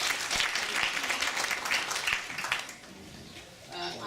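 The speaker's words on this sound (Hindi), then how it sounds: "तालियां बजाकर" Applause at a remembrance gathering for Kashmiri Pandits and Hindus: a burst of crowd clapping for about two and a half seconds, then it thins out and quiets, with a voice faintly present.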